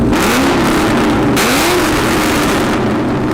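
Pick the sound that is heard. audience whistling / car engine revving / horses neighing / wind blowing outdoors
car engine revving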